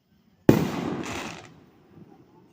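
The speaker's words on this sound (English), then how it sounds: "Okay, if there's one more firework, part 3." A single firework bursts loud and close at a July 3rd show, then a crackling tail fades over about a second.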